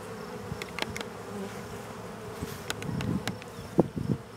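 Honeybees buzz steadily during a hive inspection, a close swarm hum with occasional louder passes and sharp ticks from handling, no voices.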